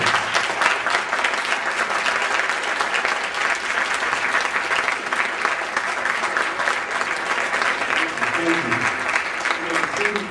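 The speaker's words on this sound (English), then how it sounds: "Let's stand to our feet and give him a big round of applause." Loud, sustained applause from a standing audience for Thomas Ware and the Cultural Shock Movement, dense clapping throughout with faint voices surfacing near the end.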